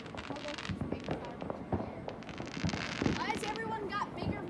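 Backyard Fourth of July fireworks crackle and pop continuously at close range, a dense spray of firecracker bursts, with voices talking and calling out over them.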